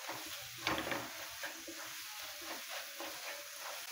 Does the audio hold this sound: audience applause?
no